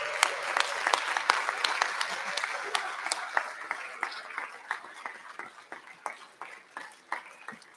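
Audience on its feet applauding and cheering the class of 2021 at a senior recognition, with dense continuous clapping and a few sharper claps standing out throughout.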